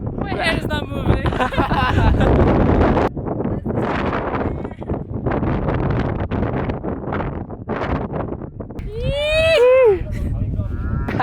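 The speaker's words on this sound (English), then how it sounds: "It's so windy." Strong wind buffets the microphone outdoors in Morocco, gusting roughly and unevenly beneath people talking and laughing nearby, swelling louder toward the end.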